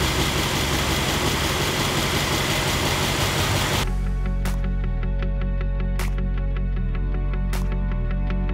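A Mercedes-AMG E 63 S idles quietly with a smooth, steady low hum and faint regular ticks. A loud, broad rushing noise comes before it and then cuts off.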